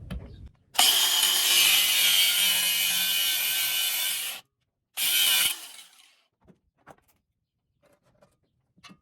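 A saw cutting through the metal governor arm of a Honda GX160 engine, one loud, steady rasping cut of about four seconds, a short second burst, then faint clicks and taps.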